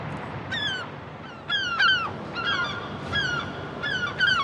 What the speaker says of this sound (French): là, on a 3 ou 4 goélands qui nous tournent autour, qui alarment